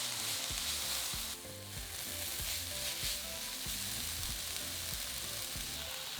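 Finely sliced cabbage, chillies and minced garlic stir fry in a hot pan, giving a soft continuous sizzle with rhythmic tossing and clanks from the utensil, no voices.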